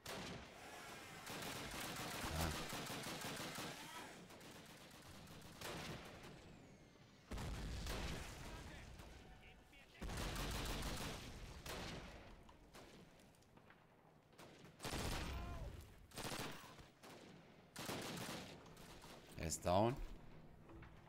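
Call of Duty combat gunfire comes in separate loud bursts and volleys with quiet gaps between them, and a sharp crack sounds near the end.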